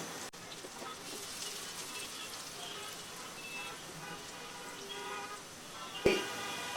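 Garlic fries in two spoons of hot oil in a wok over high heat, making a steady, faint, close sizzle, with a sharper clatter near the end.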